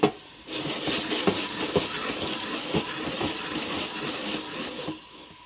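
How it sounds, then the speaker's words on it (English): Steam hisses steadily from the lid port of a HexClad pan on the stove, a continuous broadband rush with small clicks and taps mixed in, close and fairly loud for about five seconds before easing off. "Steam's coming right out of the port."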